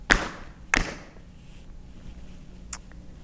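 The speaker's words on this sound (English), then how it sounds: "She knocked even louder this time." A door is knocked loudly during a fairy tale told aloud: two hard, close knocks in quick succession, then a quieter single rap after a pause.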